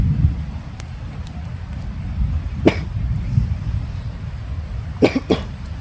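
Several separate coughs, sharp and close, over a low background hum of wind or traffic.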